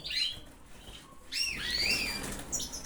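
Pet canaries, including an élégant agate male and a parva hen, chirp in their cages with bright, rising whistled tweets in short bursts, close and fairly loud, over a soft hiss.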